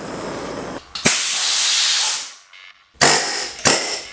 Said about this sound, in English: Time to use fire.